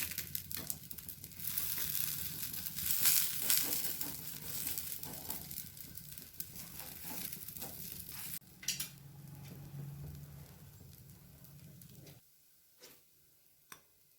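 A vegetable masala dosa fries in oil on a pan over medium heat after being flipped, giving off a soft, steady sizzle with scattered light ticks and clicks. It quiets near the end.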